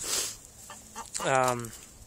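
Rhode Island Red chickens close by make a soft cluck, then a longer, drawn-out squawking call.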